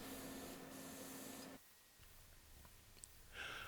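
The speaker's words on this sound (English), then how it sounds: "apply some anti-spatter spray to the nozzle" Anti-spatter spray hisses onto the nozzle of a gas metal arc welding gun in two bursts: a longer, steady spray, then a brief pause with faint clicks, then a short second spurt.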